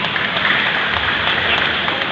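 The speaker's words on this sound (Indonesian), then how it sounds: "Yang tepuk tangan untuk Kuningan." An audience at an Indonesian motivational day event breaks into steady applause, a dense wash of many hands clapping continuously for about two seconds with no voices above it.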